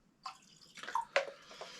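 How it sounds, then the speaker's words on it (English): Water splashes from a jug into a glass of 10-year-old Jura whisky in a garden pub shed, a few short bursts of pouring and dripping, close and fairly clear with no talk. "I'm forgetting to put my water in. I've got to have water in there."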